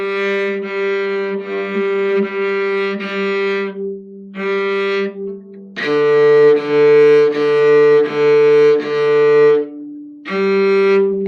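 A cello played with a bow gives a sustained, tuneful melody with long drawn notes, double stops and short pauses between phrases.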